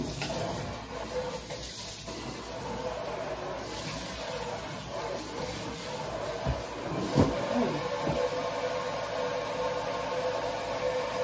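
Water runs from a kitchen tap into a sink for washing dishes, a continuous hissing stream with a few clinks and bumps of dishes near the end.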